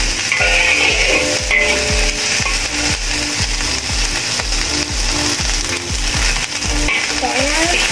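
Rice fries in a pan with a loud, steady sizzle and a rhythmic scrape of a spatula stirring it, close and continuous throughout, with no talking.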